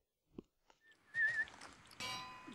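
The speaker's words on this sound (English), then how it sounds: "that whistling's very loud" Loud whistled tone from a Minecraft game, a sustained warbling pitch around a second long, then a burst of bright noise follows.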